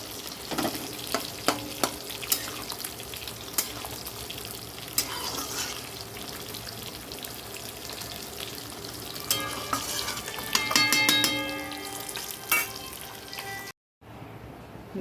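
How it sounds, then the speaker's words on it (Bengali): Rui fish frying in oil in a home kitchen pan, a steady close sizzle with scattered sharp spits and crackles, a few louder bursts of popping near the end, then a sudden brief drop to near silence. "দেখো মাছ ভাজা"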